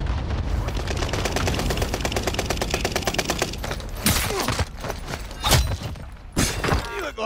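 Rapid bursts of automatic gunfire rattle in a multiplayer shooter video game, a fast machine-gun stutter giving way to sharp separate cracks and impacts, loud and close with faint radio chatter underneath.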